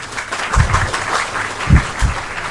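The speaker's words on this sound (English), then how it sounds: "let's give him another round of applause," Audience at a conference session applauding, a hand clap, sounding as a steady wash of clapping with a few louder thumps scattered through it, no talk over it.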